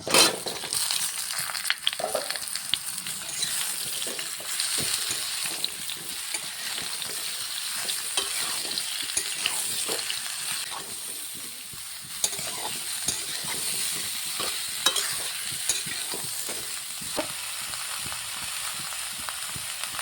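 Steady sizzling of mango pieces frying in hot oil after a chili tempering, with occasional scraping and stirring clicks, loud and close throughout.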